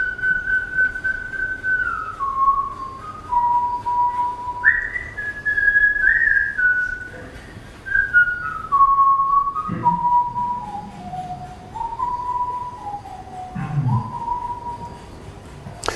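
A solo whistled icaro from the Daime tradition, smooth gliding, wavering notes, sustained phrases rising and falling steadily over a faint background hum, no words.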